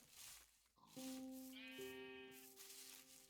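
A sheep in a Minecraft-style island survival game gives a couple of short, nasal bleats, fairly close and clear over a low hiss of ambient background sound.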